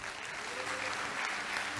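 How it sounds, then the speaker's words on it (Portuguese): A church congregation claps in praise of God during a sermon, with sustained, even applause that fills the room and no voices rising above it. "Aplaude a Deus por isto"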